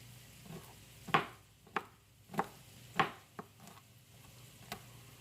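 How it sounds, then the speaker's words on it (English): Knife chopping kale greens on a cutting board, a handful of separate sharp thunks spaced irregularly, close and fairly quiet with no one talking. "So I'm just going to rough mince this."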